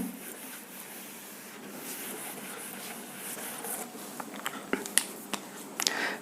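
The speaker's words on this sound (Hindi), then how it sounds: "इसको रब कर देता हूँ" A board being rubbed clean during a physics classroom lecture gives a faint, steady scrubbing under room noise, with a few sharp little ticks and taps toward the end.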